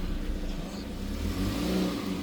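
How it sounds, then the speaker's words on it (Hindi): A Kia Seltos pulls away, its engine rising in a moderate rev as the car drives off, steady and fairly close throughout without any talk. "और भाई ये अपनी गाड़ी जाते हुए"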